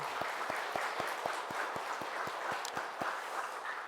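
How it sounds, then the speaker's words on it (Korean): A church congregation at a New Year's Eve service claps in a steady, even rhythm, with regular thumping beats under a bed of scattered hand claps. "우리 하나님께 우리 영광의 박수 한번 올려드리겠습니다"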